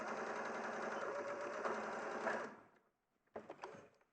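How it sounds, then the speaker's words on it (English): A sewing machine runs steadily for about two and a half seconds joining a quarter-inch seam, then stops; after a brief silence a few light clicks and handling noises follow. "so I've stitched along one side"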